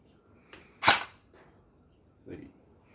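A single sharp crack of an Alpha King AK105 gel blaster shot rings out, followed a moment later by a faint, light impact tap as it hits a distant shed, with quiet background in between.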